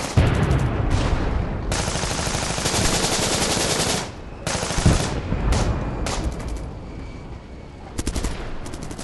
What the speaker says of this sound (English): I'm going to play some sounds of the battlefield